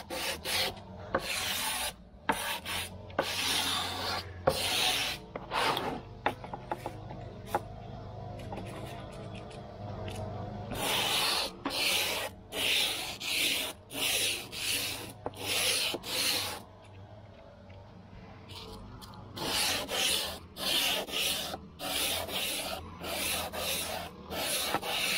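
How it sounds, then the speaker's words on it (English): Hand sanding of wood with 150-grit sandpaper: steady back-and-forth rasping strokes, close and fairly loud, coming in rhythmic bursts with brief pauses between passes. "I'm gonna take some 150 sandpaper. And I wouldn't even call what I'm gonna do sanding."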